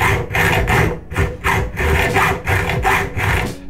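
A metal saw blade cuts through a stunt scooter handlebar in steady back-and-forth strokes, about seven rasping passes close and loud with no talk.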